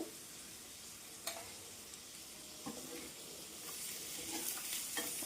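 Chicken fry with curry leaves and chili sizzles softly in a pan, stirred with a few scraping knocks of the spatula against the metal, with a steady, quiet frying hiss throughout.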